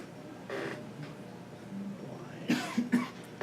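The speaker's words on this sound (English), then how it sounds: "was intentionally coughing to obscure your incorrect answer" A few short coughs, fairly close, with a throat-clearing sound, in a quiet room.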